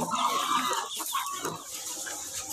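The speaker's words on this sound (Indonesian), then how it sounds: "Yang itu bukan ayam, tapi itu namanya Guinea." Black guinea fowl calling nearby, a run of harsh, rasping, cackling notes that fade toward the end, heard against a steady outdoor background with no voices.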